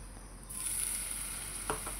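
Spices crackle in hot tempering oil for katachi amti, then a small splash of water sets off a sudden loud hiss that holds steady and close, with no voices.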